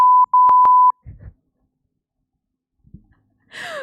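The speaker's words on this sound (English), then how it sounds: "beep soundboard noise" Soundboard beep effect, a sharp electronic tone that pulses in several quick bursts, then breaks off into near silence with a soft breath and a faint voice toward the end.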